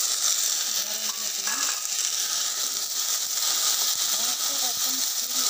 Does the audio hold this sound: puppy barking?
no